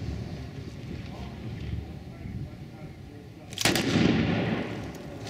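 Fast draw revolver shots fired by competitors at a World Fast Draw Association event in Red River, New Mexico: a single sharp crack late on, after wind and crowd murmur.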